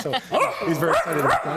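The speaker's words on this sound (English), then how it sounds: "he's barking because he can see himself" A six- to seven-month-old Schnauzer mix puppy barks and yips excitedly in several quick bursts, close and loud, with a person talking over the barks.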